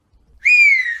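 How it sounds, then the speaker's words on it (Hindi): A cartoon character, a daughter-in-law in a Hindi animated moral story, gives a single clear, loud whistle that rises then holds a steady slightly falling tone for about half a second, alone against silence. "सास को देखते ही दोबारा सीटी बजाने लगती है।"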